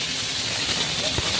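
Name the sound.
onions sizzling as they are added to hot oil with spices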